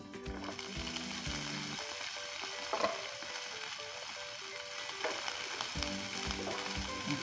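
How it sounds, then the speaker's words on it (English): Broccoli and other vegetables fry in a pan with a steady, quiet sizzle and crackle, broken by scraping and tapping stir sounds near the pan, with no talking. "now let me start adding my broccoli"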